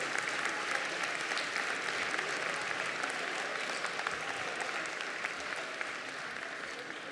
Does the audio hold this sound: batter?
no